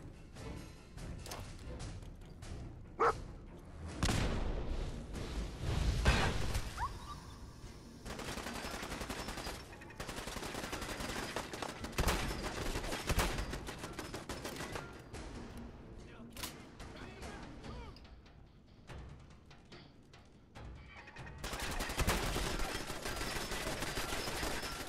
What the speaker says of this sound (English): An automatic shotgun or rifle.